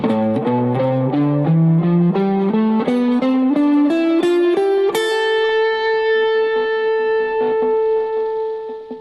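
An A natural minor scale played note by note on an electric guitar with effects, climbing steadily in even steps and ending on a sustained high note that rings out and slowly fades.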